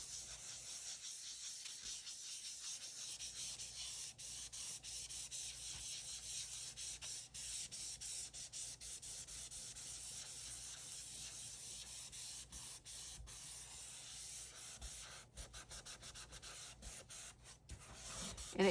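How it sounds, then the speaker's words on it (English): A cloth rubs Dorland's wax across a sealed watercolor painting, a faint, steady papery hiss with repeated short strokes running close and quiet throughout. "you just take a cloth or a cotton bud and you just work it and smooth it out"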